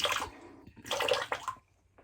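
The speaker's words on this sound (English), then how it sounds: "I'm going to get a little water into here and just kind of wring it out and do that again." Water squeezed and wrung out of a shaving brush, the Phoenix Artisan Accoutrements Amber Aeroli, in two close splashy, dripping bursts with a short pause between them, quiet and fading to near silence at the end.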